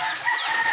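Chickens cluck close by while a rooster's crow rings out, a short burst of farmyard bird calls.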